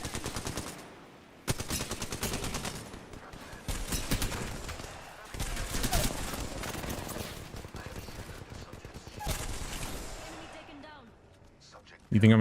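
Rapid automatic gunfire in a shooter video game, loud bursts of machine-gun fire that stop and start repeatedly, with a player talking over parts of it.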